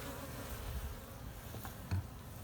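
A low, steady buzzing of many bees nearby, continuous throughout, with one brief louder thump near the end.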